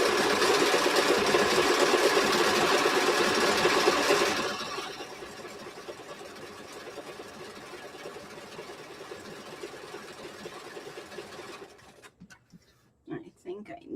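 A sewing machine stitches appliqué onto a t-shirt with a steady, buzzing whir. It runs loud for about four seconds, then settles into a quieter continuous hum before stopping near the end, when a few soft handling noises follow.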